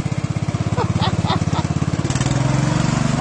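A racing lawn mower engine putters in a fast, even pulsing rhythm close by, then steadies into a smoother running drone as it drives off, with faint voices in the background.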